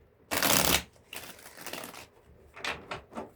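Tarot cards are shuffled by hand in a quiet room: one loud riffling burst, then softer sliding and a few short flicks near the end.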